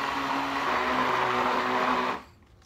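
A small blender whirs steadily while mixing milk paint, a loud continuous buzzing drone that runs for about two seconds and then cuts off abruptly, leaving faint quiet.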